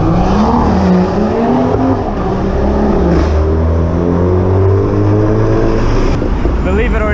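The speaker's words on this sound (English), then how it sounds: "that was a Volkswagen Polo making that much noise" A loud Volkswagen Polo roars past with a harsh, droning engine note that rises and falls, heard close against a rough, continuous road and wind background.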